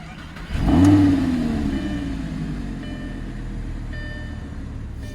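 A 2009 Lamborghini Gallardo's engine blips once sharply, then settles into a steady low idle rumble, close and fairly loud with no talking.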